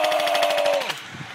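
Rapid automatic gunfire in a Rambo film scene: a loud, close burst of fast repeated shots lasting under a second, then cutting off into a short trailing echo.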